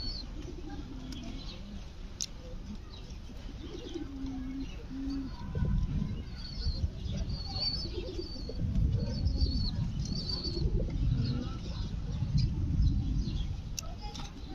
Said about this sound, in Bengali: এটা কিন্তু কবুতর, ফেন্সি জাতের কবুতর